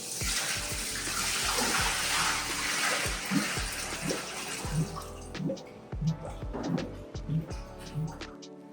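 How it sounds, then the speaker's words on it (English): Water bubbles and gurgles as it fills a CS700 cylinder during a rinse, a steady rushing flow at first that gives way to intermittent drips, glugs and splashes, close and moderately quiet. "you're going to want to let everything bubble and fill the cylinder before you do the rinse"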